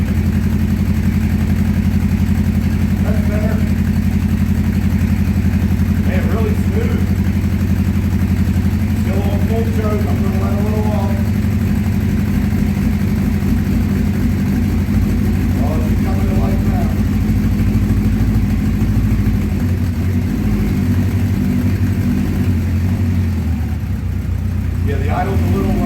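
A 1984 Honda CB700SC Nighthawk engine idles low and steady after a carburetor clean, a continuous deep rumble with light mechanical clatter, while someone speaks occasionally over it.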